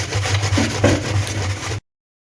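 An onion being grated on a hand grater for seekh kebab mix, a close, loud run of back-and-forth rasping strokes that stops abruptly.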